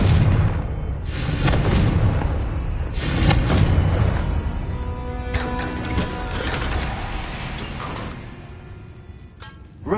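A Confringo fire-blast spell goes off in Hogwarts Legacy, giving several loud booming bursts with rumbling low-end impacts over a dense, continuous game soundscape.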